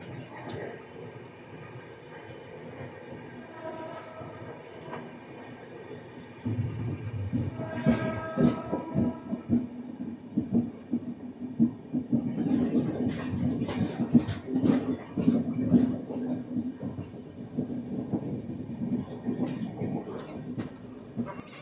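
Visakhapatnam–Howrah superfast express train pulling into a platform, a low rolling rumble of the train building and swelling with rattling and clatter, with voices and station bustle around it.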